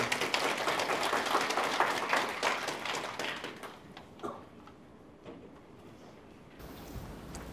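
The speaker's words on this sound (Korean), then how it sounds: "큰 박수로 맞아주십시오" Audience applause at a real estate tax lecture greeting the speaker, a full burst of clapping that thins and fades out over several seconds into scattered claps and room noise.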